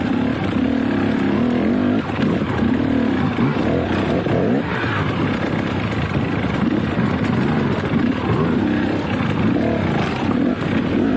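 A dirt bike fitted with WP Pro 6500 suspension rides through woods in third gear, its engine droning loudly and continuously with small rises and dips in revs, close and without speech.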